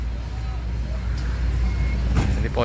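Idling bus engine at the Sinar Jaya bus depot, a steady low rumble throughout with a brief hiss near the end, no talk over it.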